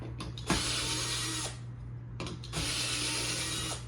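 A power screwdriver backs screws out of an LG 65UN7300AUD television, whirring in two separate bursts of about a second each, close and fairly loud, with a quieter pause between them.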